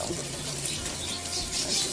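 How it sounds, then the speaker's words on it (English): Tap water runs steadily over an aquarium ornament being rinsed in a sink, a soft continuous splashing hiss with no voices. "just get some water, make sure it's not too warm, and run it under the water like so"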